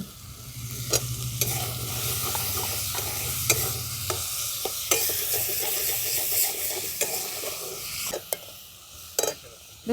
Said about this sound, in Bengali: দেখুন, আলুটা একটু নাড়াচাড়া করে নিয়েছি